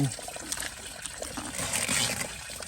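Catfish splashing and playing in shallow water at a rice field fish pen, a steady close trickling and sloshing of water with small splashes throughout, no talking.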